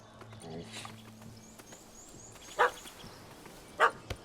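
A puppy barks in The Witcher 3, two sharp loud barks spaced about a second apart, with faint game ambience and a brief voice earlier.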